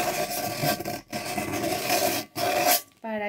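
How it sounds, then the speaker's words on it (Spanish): Sandpaper rubs back and forth over the sharp edge of a cut tin can, a few short rasping scrapes separated by brief pauses, close and fairly loud. "un pedacito de lija, cualquier lija, para quitar este filo que normalmente traen las latas, lo puedes tallar, entonces así ya se lo quitas."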